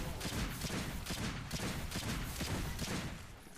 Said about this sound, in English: So let's see what a full mag of this does.